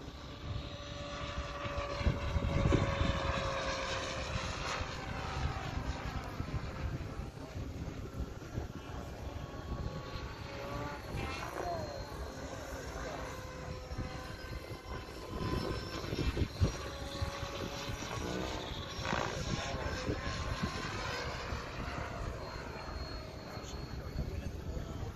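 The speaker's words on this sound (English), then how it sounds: "Notice the helicopter doesn't pitch." A radio-controlled F3C competition helicopter flies aerobatic precision manoeuvres, its engine and rotors giving a continuous, steady whine and buzz that swells and fades slightly as it moves, heard outdoors from a moderate distance.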